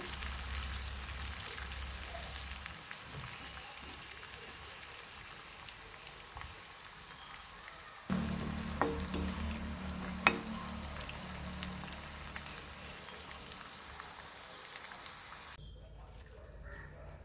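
Ivy gourd (kovakka) and curry leaves frying in hot oil, a dense crackling sizzle that flares louder midway with a few sharp pops, then drops away near the end.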